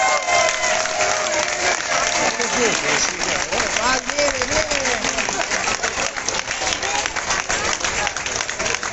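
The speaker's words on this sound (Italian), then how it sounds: "rifacciamo un bel applauso alle nostre fantastiche donne" A crowd applauds the women at the Resia Rosolina Relay race awards ceremony along the Adige River, with sustained dense clapping mixed with cheers and shouting voices close by.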